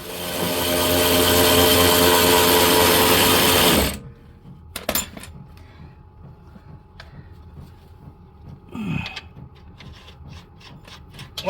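A power tool drives the rear strut bolt on a Dodge Journey, a loud continuous buzzing whir for about four seconds, then stops, leaving scattered clicks, metallic clanks and handling noises close by.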